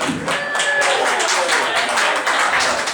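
Audience applause for a funny comedian at a Gainesville comedy show, a dense steady wash of clapping that fills the room evenly from start to finish.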